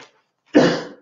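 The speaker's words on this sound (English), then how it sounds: "I'm sorry, my cough this evening." A single sharp cough breaks out close to the microphone during a virtual naval history lecture, following a brief moment of quiet.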